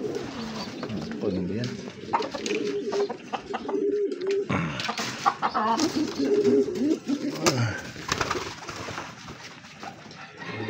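A pair of pigeons cooing on a roof, soft repeated coos under frequent nearby talking in Filipino.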